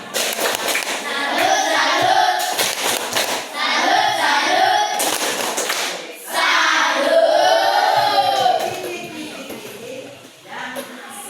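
A classroom audience claps a rhythmic salute-style pattern in a series of bursts, with children's voices chanting along over the claps.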